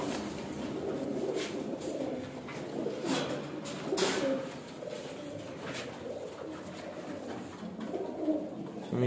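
Pigeons cooing softly in low repeated calls, fairly faint and close, with light rustling and handling noises around them and no talk.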